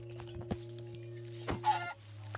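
Minecraft chickens cluck in short bursts over a steady electronic hum, with a few sharp taps; the clucks are brief and close.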